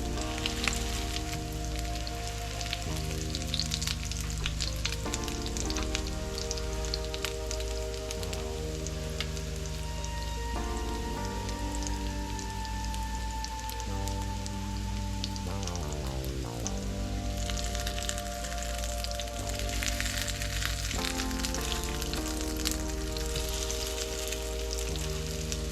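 Salmon patties browning in oil in a frying pan, giving a steady, dense sizzle and crackle that runs unbroken from start to finish with no talking.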